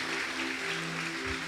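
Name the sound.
church congregation applauding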